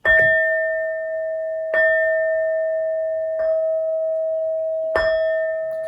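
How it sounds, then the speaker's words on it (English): Four clear bell strikes spaced about a second and a half apart, each ringing out with a long sustained tone that barely fades before the next. "These next 12 bell sounds are to align us and to bless this reading."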